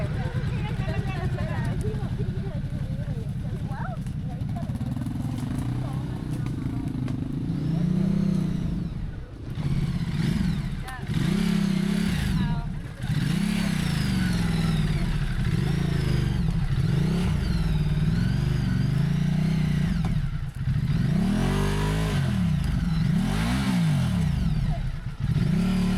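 Off-road motorcycle ridden on a backcountry adventure loop trail, with a loud engine revving and surging in repeated bursts alongside clattering, and voices talking over much of it.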